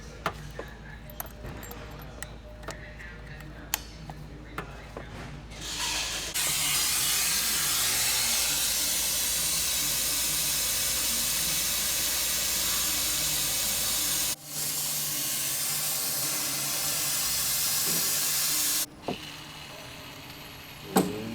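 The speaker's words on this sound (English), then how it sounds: "Injecting the coolant, doing a vacuum test." A steady, loud hiss of pressurized air from a coolant vacuum filling tool on a 2016 Jetta runs for a long stretch, cutting off abruptly twice, with faint metallic clinks beforehand.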